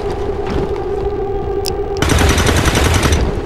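Gunfire erupts in the video game XCOM 2 as a loud, sustained burst of shots that cuts in halfway through over a droning background hum.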